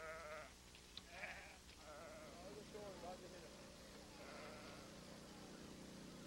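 Freshly shorn sheep bleat on Mud Island, several overlapping calls rising from a steady flock murmur at moderate distance, with a low background rumble throughout.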